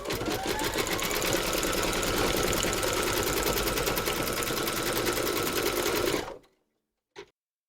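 Embroidery machine stitching around a teddy bear's nose, a fast steady needle chatter with a rattling mechanical hum, close and continuous for about six seconds before stopping abruptly, then one brief faint knock.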